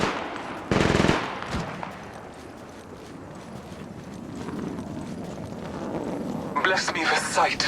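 Gunfire in the mobile shooter game Apex Legends, a dense automatic burst early on followed by quieter scattered shots, with more rapid firing near the end and game voice lines mixed in.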